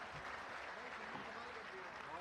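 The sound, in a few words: audience applause at a comedy poetry stage show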